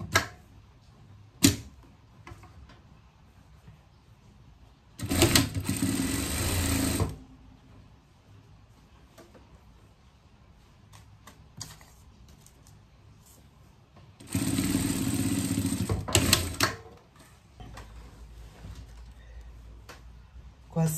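A sewing machine stitching fabric in two bursts of rapid whirring lasting about two seconds each. Quieter stretches with soft handling sounds and a voice fall between them.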